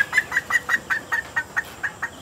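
Dekalb Brown laying hens give a run of about a dozen short, evenly spaced clucks, close and clear, each a brief sharp note with quiet between.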